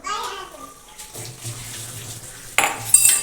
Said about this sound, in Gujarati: હવે આપણે પાણી નાખીશું.